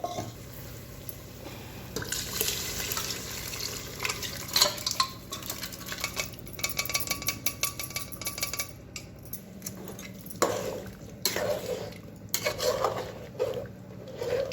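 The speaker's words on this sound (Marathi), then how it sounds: "आता टाकणार आहे शिजलेलं मटण" Cooked mutton tipped into a pan of well-fried masala for a spicy Dharashiv-style mutton curry, bringing a close run of wet clinks, scrapes and sizzling stirs against the pan, with louder clatters scattered through.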